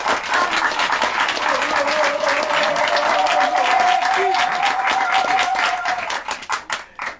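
An audience breaks into sustained applause at a children's memory contest, dense clapping with a held tonal voice or cheer running through it before the clapping thins out and fades at the end.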